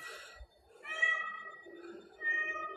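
Close, insistent meows from a friendly collared cat, two or three sustained wavering cries in quick succession, with a faint human voice and light movement underneath.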